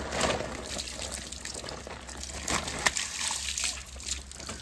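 Water runs steadily into a bucket with a soft sloshing, splashing rush, fairly quiet and continuous, with no talking, at a farmhouse.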